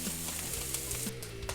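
A Thanksgiving side dish sizzles steadily in a hot pan while being stirred, giving a dense, close frying hiss with faint scraping throughout.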